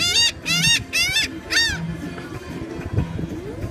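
Geese or similar large birds feeding on peaches give four loud, nasal honking bursts close by, followed by quieter low clucks and rustling.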